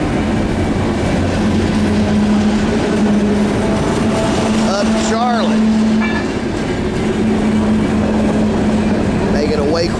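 CSX freight train Q491 rumbles past close by in Charlotte with steady clattering wheels and squealing metal, while someone speaks briefly over the noise.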